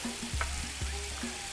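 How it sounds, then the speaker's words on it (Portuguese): Bone-in pork ribs frying in a pan for a southern Brazilian tachada, a steady close sizzle with scattered pops and a few scraping stirs, no talking. "costelinha com osso, hein, gente? Deixar isso aqui fritando"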